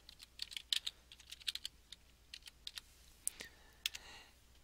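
A folder name being typed on a laptop keyboard, heard as quick, close, light key clicks in irregular bursts with short pauses, alone and fairly quiet.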